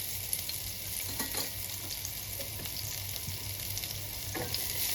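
Onion frying in a blackened frying pan for a sardine dish, a steady, fairly quiet sizzle with a few soft clicks and stirring scrapes, no voices.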